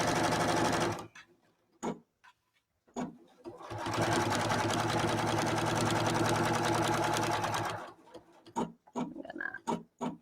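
A sewing machine stitches binding onto a quilt edge in two bursts, a short run then a steady four-second whirr, close and clear, with clicks and handling noises in the pauses between.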